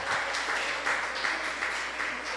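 Church congregation applauding during a family worship service, a steady wash of clapping held at an even level, with occasional stronger bursts.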